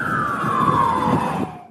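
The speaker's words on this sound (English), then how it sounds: "there is a change in pitch of the siren as the car heads towards you, usually getting higher as the car approaches" A police car siren sweeps past, its wailing tone sliding gradually lower as it goes by, loud and close, then cutting away quickly at the end.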